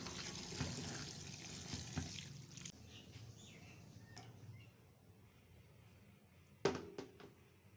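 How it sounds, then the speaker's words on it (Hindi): Cauliflower being washed under a running kitchen tap, steady splashing water for a few seconds, then the flow stops, leaving quiet handling and a couple of sharp knocks near the end. "अब जल्दी से जो है गोभी को हम अच्छे से धो लेते हैं"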